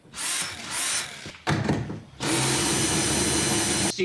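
A power drill whines loudly in bursts indoors, two short runs with a break, then a long steady spin to the end, with handling clatter between.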